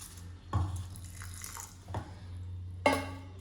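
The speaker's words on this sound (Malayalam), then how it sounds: "നമുക്കിതിലേക്ക് കുറച്ച് വെള്ളം കൂടെ ഒഴിച്ചു കൊടുത്തിട്ട് നന്നായിട്ട് അരച്ചെടുക്കാം" Water poured into a mixer grinder jar holding soaked raw rice, with a few splashing bursts over a steady low hum.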